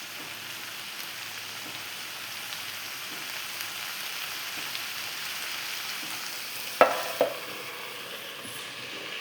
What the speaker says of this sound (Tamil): தக்காளி, வெங்காயம், கருவேப்பிலை இதெல்லாம் சேர்த்து நல்லா வதக்குங்க